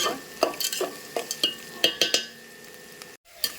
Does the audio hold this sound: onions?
yes